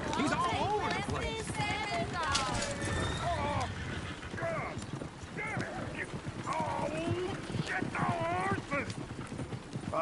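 Horse hooves clip-clop in Red Dead Redemption 2, a steady trotting rhythm close by, mixed with whinnies and snorts while in-game characters talk over it throughout.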